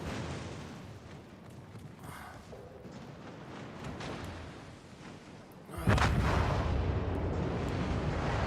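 Torpedoes striking a warship in a naval combat video game, a low rumbling background followed by a sudden loud booming impact that lingers as a heavy roar.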